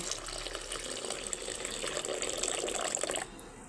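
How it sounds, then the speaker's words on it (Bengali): Water running steadily into mashed red lentils, a faint continuous trickle and splash close by for a few seconds before it stops. "এবার আমি জল দিয়ে দেব"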